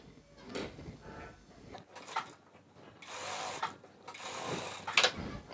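A sewing machine stitches the seam on a pair of half pants in short intermittent bursts of whirring with quiet gaps between, heard close up.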